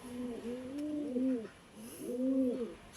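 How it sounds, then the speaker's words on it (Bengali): Madrasi pigeons in Murshidabad give two drawn-out, rolling coos close by, one after the other with a short gap, with almost nothing else in the background. "কিউট দেখতে দুটো পায়রা, দেখতেই পাচ্ছেন।"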